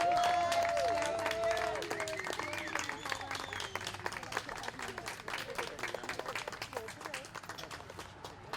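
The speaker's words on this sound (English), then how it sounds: "If everyone could cheer as the flag is going up" Outdoor crowd at a Pride flag raising ceremony cheering and clapping as the flag goes up, with whoops over sustained applause that gradually thins out across the clip.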